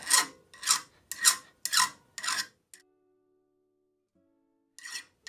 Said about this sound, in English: Now I'm going to a finer file